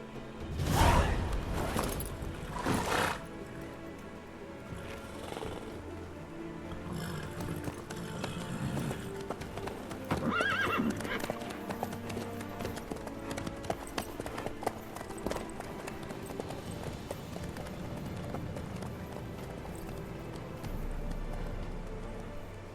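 Rhythmic horse hoofbeats in The Witcher 3 video game clip-clop steadily at a trot, near and clear, with a few sharper thuds early on and a faint swishing background.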